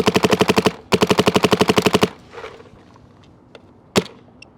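A paintball marker fitted with a Ninja Flex adjustable regulator firing rapid bursts of shots, loud close rhythmic pops in two strings, then a pause and a single later shot.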